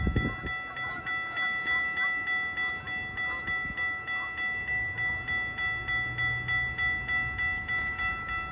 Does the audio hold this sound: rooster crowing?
no